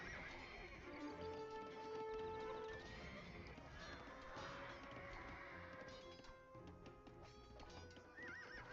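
Horses in the Age of Empires 2 video game whinny and neigh over a busy stream of clip-clopping hooves, with layered game effects running continuously at moderate volume.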